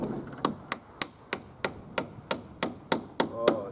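Sharp hammer blows driving nails into plastic uPVC fascia on a roof, about eleven evenly spaced hits with a slight knock and ring, close by and without talk.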